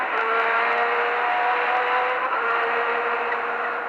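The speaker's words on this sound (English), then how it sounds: "accelerate hard up through the gears" A Formula 1 car in the 1980s races flat out from onboard, its engine howling loudly and steadily as it accelerates hard up through the gears, with rising harmonic tones and no talk.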